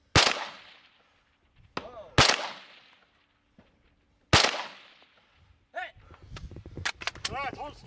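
Rifle shots fired at 300, 400 and 500 yard steel targets during a High Desert Brutality precision rifle match stage: three loud, sharp cracks spaced about two seconds apart, each trailing off in echo, then faint ringing impacts and a voice speaking.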